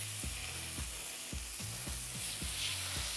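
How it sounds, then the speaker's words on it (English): New York strip steaks sizzle in oil on a flat top griddle, a steady close hiss with faint scraping or clicking taps spaced through it. "oh, listen to that sizzle."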